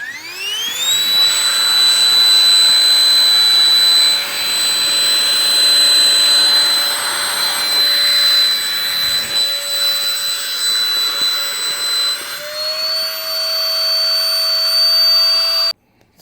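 The vacuum compression pump built into a Black Voyage AirCabin Pro roller bag runs steadily with a high, whining motor tone that shifts pitch slightly near the end before cutting off abruptly, loud and close with no talking.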